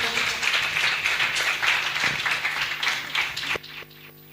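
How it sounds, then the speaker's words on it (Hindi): Loud applause from the audience at a Sharad Purnima Raas meditation festival, continuous clapping for several seconds that cuts off abruptly, leaving a faint hum. "इन सब के लिए एक बार जोरदार तालियां हो जाएं।"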